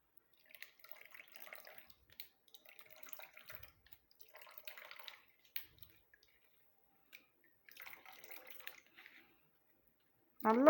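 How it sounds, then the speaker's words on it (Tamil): A ground paste of banana flower and lemon juice is squeezed by hand through a strainer, making soft, intermittent wet squishes and drips, quiet and close, in brief clusters separated by pauses. "ஒரு வடிகட்டி வச்சுட்டு ஃபுல்லாக நம்ம சாரை பிழிஞ்சு எடுக்க போகிறோம்"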